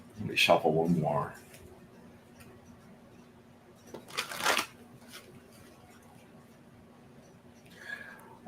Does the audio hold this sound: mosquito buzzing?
no